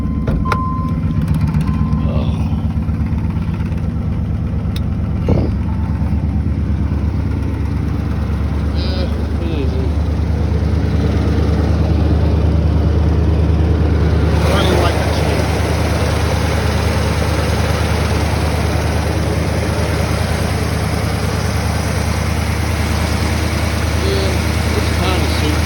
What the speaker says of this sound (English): Give it some gas. Let's see if she'll crank. Holy crap, it cranked.